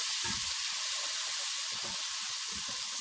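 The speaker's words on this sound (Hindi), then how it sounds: "अब इसके अंदर अदरक लहसुन डालते हैं और इसको हल्का सा फ्राई करेंगे।" Ginger and garlic sizzling with onions in a hot pan, a steady bright frying hiss that runs unbroken throughout with a few soft low knocks underneath.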